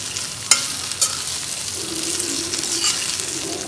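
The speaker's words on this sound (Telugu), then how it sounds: "టమాటా సాస్ కూడా వేసి కలుపుకుందాం" Gobi manchurian stirred in a pan after tomato sauce goes in, giving a steady low sizzle with a few sharp clinks of the spoon against the pan and soft scraping strokes, close and without talk.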